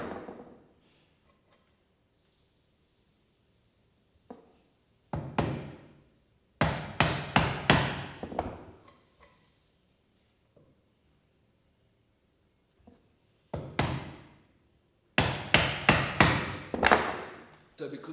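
A mallet strikes a chisel to chop a mortise in wood: several clusters of sharp, close knocks in quick bursts, separated by quiet gaps.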